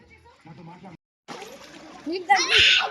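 Water splashes at a family swimming pool, coming in as a short burst of splatter near the end, while voices, including a child's, chatter throughout.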